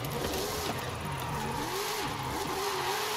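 In Forza Horizon 5, a front-wheel-drive car's engine revs continuously, its pitch rising and falling in repeated swells with no pause.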